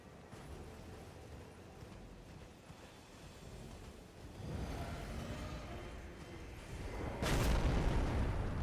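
A heavy explosion strikes while riding Torrent in the Elden Ring video game, starting as a low rumble and ending in a sharp, louder boom, with no voices.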